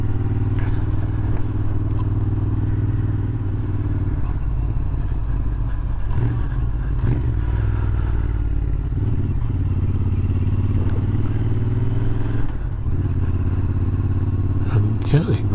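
A Royal Enfield Interceptor 650 twin motorcycle runs with a steady, deep exhaust rumble throughout, holding close and even, with a voice talking over it.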